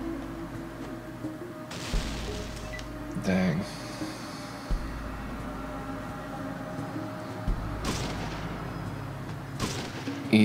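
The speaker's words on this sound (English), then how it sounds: "I should throw a grenade in there." Explosions and gunfire in the video game Fallout, several heavy booming blasts spaced a few seconds apart amid combat noise, with a voice talking over them.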